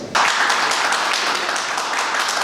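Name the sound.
audience applause at a felicitation ceremony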